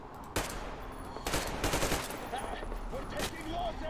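Sustained automatic gunfire and shooting in Metro Exodus, a dense, loud run of rapid shots that keeps going for several seconds with no speech.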